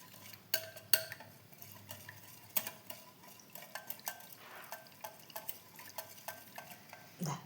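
Milk being stirred into orange pudding mix: a spoon clinks and taps steadily against the side of a bowl in an uneven rhythm, close and moderately quiet with no talk.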